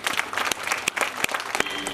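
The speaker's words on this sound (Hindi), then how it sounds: "एक बार अपने स्वागत में जोर से ताली बजाएंगे" A hall audience at a Mahashivaratri celebration claps loudly in welcome, a dense burst of many hands with sharp individual claps standing out, sustained and close.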